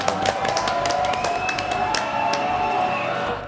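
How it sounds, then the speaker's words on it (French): Studio audience applauding the guests on a French television talk show, steady crisp clapping mixed with a few cheers that carries on for several seconds before tapering. "applaudissements pour mes invités"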